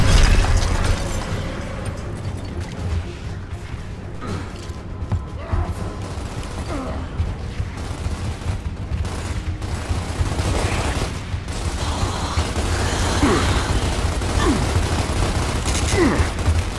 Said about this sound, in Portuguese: Granada a caminho!